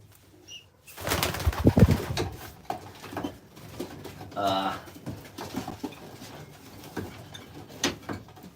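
Pigeons in a pigeon loft, soft close coos and a brief flutter of wings among shuffling and handling noises, with a person talking quietly at times.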